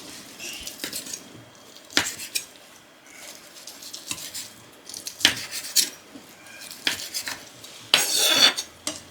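A knife cuts diagonally through thick slices of boiled pork belly on a cutting board, with a series of distinct knocks and scraping strokes in an irregular rhythm, close and fairly loud, with no talking.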